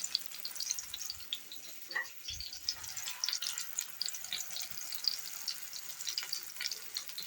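Flour-dusted dough balls frying in a pan, a steady soft sizzle and crackle with a few low clunks from handling, close and fairly quiet, no talk.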